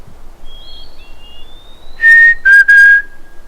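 A person whistles an imitation of a black-capped chickadee call on a quiet outdoor trail: faint sliding notes first, then a loud, clear high note followed by two lower ones, close and alone.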